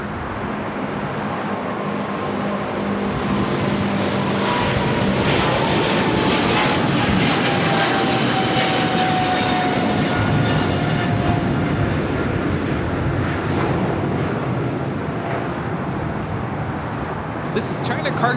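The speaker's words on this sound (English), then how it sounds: "This is China Cargo Airlines 222, the Cargo King, taking off to Shanghai on a 777 freighter." A China Cargo Airlines Boeing 777 freighter takes off from LAX in a loud, continuous jet roar that swells and holds steady. A voice talks over it.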